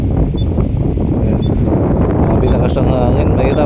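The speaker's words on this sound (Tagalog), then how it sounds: "Lakas ang hangin, mahirapan po tayo makapagpalipad ngayon ng drone" Strong, gusty wind roars outdoors beside a road near the New Manila International Airport site, buffeting the microphone in a loud, continuous rush.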